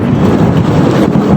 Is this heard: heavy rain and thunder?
yes